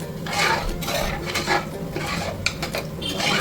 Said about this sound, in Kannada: ಇವಾಗ ಸ್ವಲ್ಪ ಒಂದು ಮಿಕ್ಸ್ ಕೊಡೋಣ ಎಲ್ಲದಕ್ಕೂ